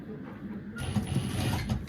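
A sewing machine stitching the underarm seam of a square-neck dress with a side zipper starts up partway through and runs as a fast, steady mechanical whirr and clatter, close by, with no talk.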